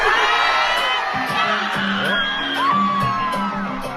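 A crowd of girls screams and cheers, high overlapping shrieks and whoops close and loud, with bangs and music pulsing underneath.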